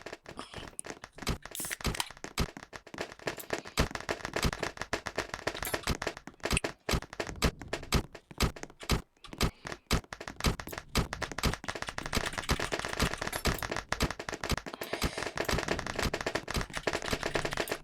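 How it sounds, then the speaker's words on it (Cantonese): Dense, continuous bursts of gunfire from a video game shooter, with rapid overlapping shots and cracks that keep up a loud, busy barrage for the whole stretch. "亂開槍一通。"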